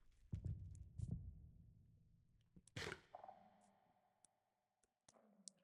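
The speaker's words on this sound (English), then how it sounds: "I can hear the heartbeat" A few soft low thumps of a heartbeat pulse in a quiet space in a video game, with scattered clicks and a brief whooshing burst in the middle.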